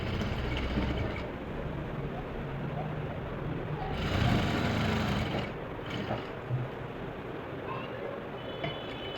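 A sewing machine stitching a double seam on a blouse, running steadily with a continuous mechanical whir that rises briefly in the middle, fairly quiet, with a voice talking over it.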